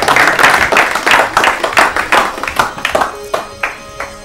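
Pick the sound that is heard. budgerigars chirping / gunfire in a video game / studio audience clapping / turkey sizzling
studio audience clapping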